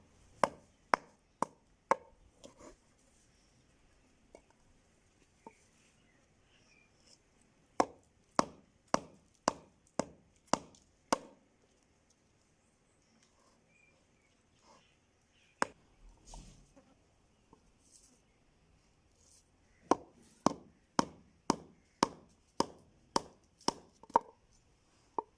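Mangoes cut into pieces for pickle with a knife on a wooden board: rapid runs of sharp, evenly spaced chops in several bursts, separated by quiet pauses with faint handling noises.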